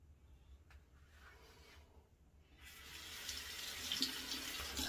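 After a quiet stretch with a faint tap, a faucet turns on and runs steadily while a shaving razor blade is rinsed, close and fairly soft, no talking.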